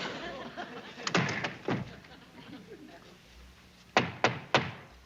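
Hard knocks on a wooden barracks duty-hut door: a couple of heavy thumps, a pause, then three quick raps, with quiet voices in the room around them.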